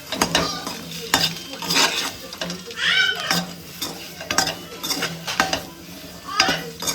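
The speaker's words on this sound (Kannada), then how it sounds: "ಸ್ವಲ್ಪ ಫ್ರೈ ಆಗಲಿ ಬೆಣ್ಣೆಲಿ." Egg curry ingredients fry in butter with red chilli powder and salt, giving a steady sizzle under repeated loud scrapes and clinks of a spoon stirring against the pan, with no talk.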